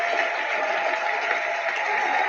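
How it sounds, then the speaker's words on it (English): A round of applause rises as a steady, dense wash of clapping, moderately loud and unbroken. "Let's give a round of applause to all those that share."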